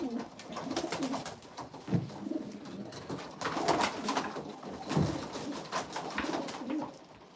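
Racing pigeons in a breeding loft coo softly and repeatedly, their low throaty calls overlapping amid faint rustling and shuffling in an enclosed space.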